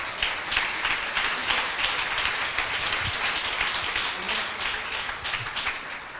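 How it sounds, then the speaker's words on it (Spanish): A church congregation breaks into applause during a sermon, a busy, crackling patter of many hands clapping at once that runs steadily at moderate loudness, with no talk on top. "Un aplauso fuerte al Señor."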